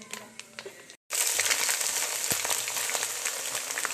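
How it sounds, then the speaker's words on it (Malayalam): Mustard seeds crackling in hot oil, first as scattered pops, then after a brief silence as a dense, loud, continuous spluttering hiss close at hand. "കടുക് പൊട്ടുന്നത് വെയിറ്റ് ചെയ്യാം."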